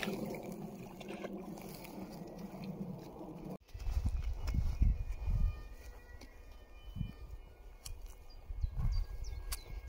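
Horse walking through water and over ground: soft splashing gives way to heavy, irregular thuds of hooves and sloshing, close and fairly loud, with faint background sounds.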